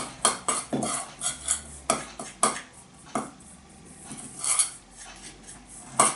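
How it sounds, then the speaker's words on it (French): A utensil stirs dry ingredients in a bowl for a raw vegan chocolate cake, with close, rhythmic clinks and scrapes repeating steadily throughout. "je vais déjà mélanger les ingrédients secs. Bien mélanger tout ça."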